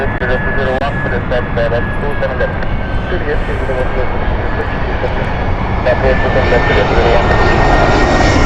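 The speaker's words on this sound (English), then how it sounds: "Aer Lingus Dublin flight is next. This is an Airbus" Aer Lingus Airbus A320 jet landing at Heathrow Airport, a loud, steady engine roar with a rising whine, heard close and continuous throughout.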